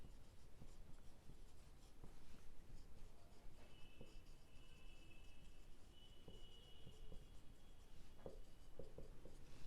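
Pen scratching across paper while bookkeeping entries are written, a soft continuous scribble over a faint room hiss with a thin steady tone in the background.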